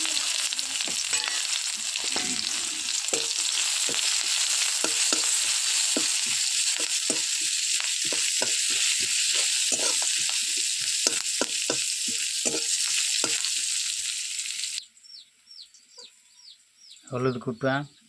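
Onion fries in hot oil in a wok for a rohu fish curry, a dense sizzle with scraping stir strokes, close and loud for most of the stretch; it then drops away and hens cluck in the background near the end.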